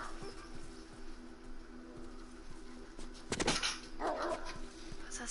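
Dogs in The Last of Us bark in a short burst partway through, standing out over a steady game ambience that also carries bird-like coos and chirps.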